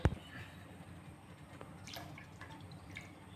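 Water splashes and trickles into a metal pot, quiet and steady, after a brief clink at the start.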